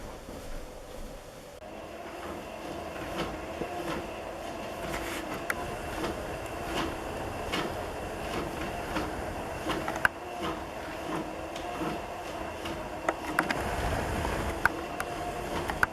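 A 4-yard motorized skein winder runs with a Yarn Pet Trio cone holder, yarn feeding off cones onto triple guides: a steady mechanical whir and rumble with faint clicks, continuous and fairly close, no talk.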